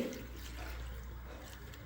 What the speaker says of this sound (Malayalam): ഒരു അര ഗ്ലാസ് വെള്ളം ഒഴിച്ചു കൊടുത്തിട്ടുണ്ട്